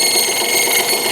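A lapidary polishing wheel at 1200 grit runs against an opal stone, giving a steady, loud whirring drone with a faint rhythmic pulsing, close and continuous with no voices.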